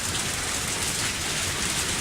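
Steady, dense rainfall in the video game Lucky Dog 1 + Bad Egg hisses evenly throughout, a constant wash of drops with no other sounds.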